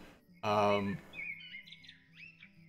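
Bird calls in the video game The Lord of the Rings Online, heard while birdwatching in Middle-earth: after a brief loud harmonic tone, thin high chirps and twittering whistles follow at a moderate distance over quiet ambience.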